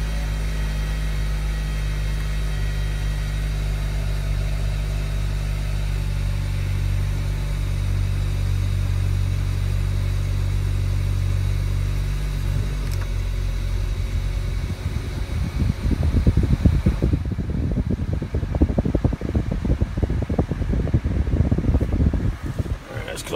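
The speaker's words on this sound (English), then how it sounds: "turn the AC on." A 2011 Hyundai Sonata idles with a steady hum while its air conditioning fan blows a broad, loud whoosh that shifts to rougher rumbling near the end, with a voice speaking over it.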